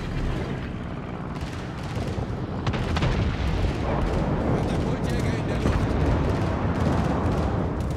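Torpedo hits on a warship in World of Warships land as heavy, rumbling explosions over continuous loud engine and battle noise, with a voice talking over the din.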